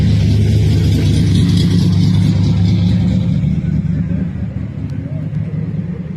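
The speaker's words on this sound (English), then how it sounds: "that 55 Chevy coming by and that 58 Plymouth." A 1955 Chevrolet's engine rumbles steadily as it drives past, a low mid-pitched drone that gradually fades, with no voices heard.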